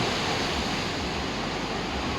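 Big sea waves stirred up by a passing typhoon roar as a dense, continuous broadband wash of surf, loud and unbroken, with no voices over it.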